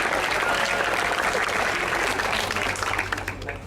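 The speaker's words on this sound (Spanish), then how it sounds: "Un aplauso fuerte." Loud, sustained applause from an audience at a school community event in Puerto Rico, dense clapping filling the whole stretch and thinning slightly toward the end.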